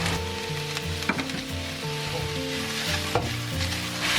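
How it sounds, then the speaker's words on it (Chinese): Shredded radish stir-fried with scallion whites and ginger in an oiled pan for a noodle dish, a steady close sizzle with a few sharp scrapes of the spatula against the pan. "接着我们倒入萝卜丝炒一炒"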